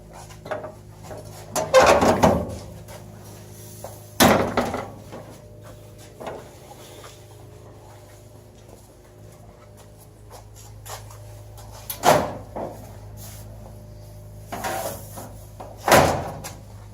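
A door on an Opel Blitz Wehrmacht truck is opened and shut, giving several distinct clunks and thuds spread across the span, with quieter metallic rattles between them, all close and without any talking.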